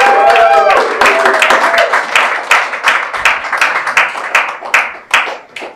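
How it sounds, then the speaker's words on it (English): An awards ceremony audience at a Christmas event breaks into loud, sustained applause, many hands clapping densely and close, fading slightly toward the end. "Can we have a round of applause as I call them out?"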